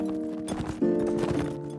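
Horse hooves galloping in the video game Mount & Blade: With Fire & Sword, a quick run of close, rhythmic thuds over a sustained musical drone, loud and without talk.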